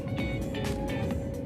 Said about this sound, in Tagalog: Pinas na o. Traffic na eh.